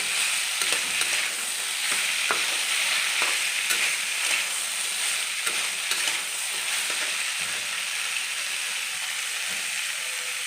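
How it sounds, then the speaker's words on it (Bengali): A spice mix and banana stem are stirred and fried in a pan, giving a steady hiss of sizzling with scraping strokes of a spoon breaking through at irregular intervals. "দিয়ে ভালো করে আমি মশলাটা মিক্স করে নেব"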